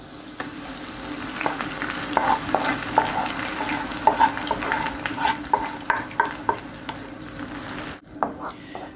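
Garlic fries in a pan with a steady sizzle while a spoon stirs and scrapes, tapping the pan in quick repeated strokes near the end. The frying sits close and clear, with no talking over it.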